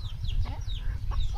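A hen clucks in a quick series of short, nearby calls over a low background murmur, lasting just over a second.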